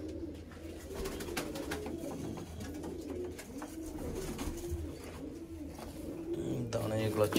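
Pigeons coo in repeated soft, rounded, low phrases close by, overlapping in a steady rhythm, with faint rustling and scattered clicks around them and a louder burst near the end.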